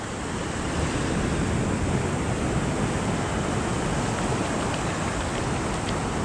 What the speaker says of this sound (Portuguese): O barulhinho do mar dá uma acalmada na gente